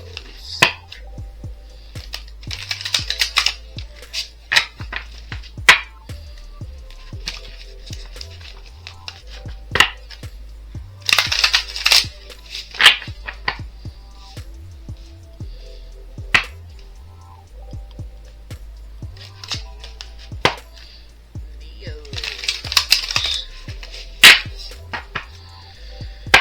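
Tarot cards are shuffled in quick, crisp bursts of riffling and snapping card slaps, with sharp taps scattered between them over a quiet low hum.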